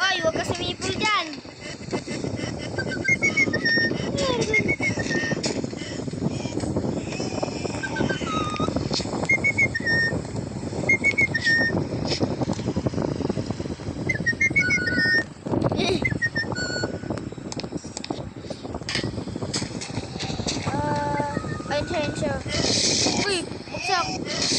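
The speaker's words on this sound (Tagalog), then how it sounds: "huwag ka sumipol dyan" Repeated short whistled notes inside the Evade video game, with a steady wind-like background rush and players talking over it throughout.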